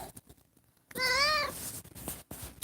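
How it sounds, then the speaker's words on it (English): A house cat lets out a single clear, drawn-out meow close by, preceded and followed by quiet indoor rustling. "The cat is trying to talk now."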